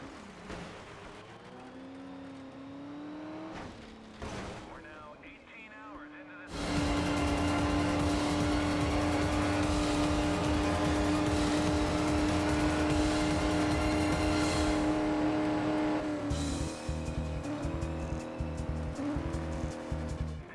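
Race cars at the Le Mans 24 hours in the racing video game GRID: a quieter stretch of engine whine gives way to a loud, sustained roar of cars at full throttle that fills the rest of the clip.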